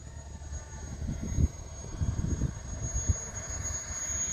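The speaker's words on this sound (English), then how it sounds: "this jet took off, and he's coming in already" A big jet aircraft coming in to land after a short flight, its engine roar a steady, fairly distant rumble that swells and fades slightly throughout, with no voices over it.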